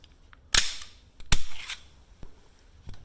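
A Smith & Wesson M&P 2.0 Spec Series pistol is taken apart, giving a few sharp metallic clicks and snaps, two of them loud and close and the rest fainter, separated by short quiet gaps.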